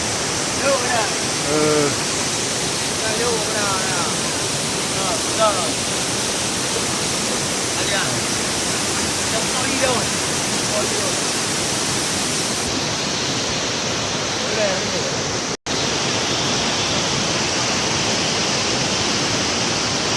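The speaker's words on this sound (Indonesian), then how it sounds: "puncak air terjun Tujuh Bidadari" The Tujuh Bidadari waterfall in North Aceh, Indonesia, roars in a constant, full rush of falling water, with faint voices briefly audible early on.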